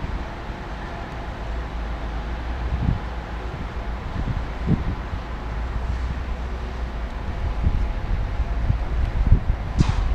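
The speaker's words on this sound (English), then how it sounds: "Getting a bit breezy." Breezy wind blowing outdoors beside a railway line, a steady low rumble of gusts buffeting the microphone with occasional thumps and rustles, fairly loud and continuous with no speech.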